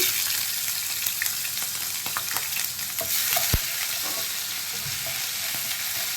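Ginger garlic paste and green chillies frying in a pan for egg masala curry make a loud, close, continuous sizzle, with occasional stirring clinks and scrapes.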